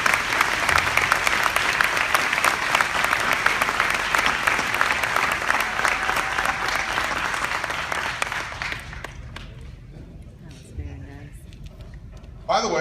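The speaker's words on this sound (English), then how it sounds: "a round of applause for the entire Motown Missile team" Audience applause at the 2014 East Coast Drag Times Hall of Fame induction ceremony honoring the Motown Missile drag racing team: dense, steady clapping from a sizable crowd for about eight seconds, then tapering off into quieter room noise.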